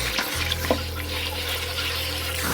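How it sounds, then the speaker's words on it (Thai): Catfish is rinsed under a running kitchen tap to wash off flour while making fermented fish, with a steady close stream of water and a low hum, with soft splashes as the fish is handled. "ล้างแป้งออกจากตัวปลาให้หมดนะครับ"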